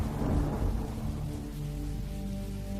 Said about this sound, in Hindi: जंगल में चलते चलते अचानक तेज बारिश शुरू हो गई